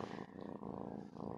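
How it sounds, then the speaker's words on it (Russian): Cat purring close by, a soft continuous rumbling purr with a steady pulsing rhythm, alone and quiet. "Трактор який, довольний, замурчав."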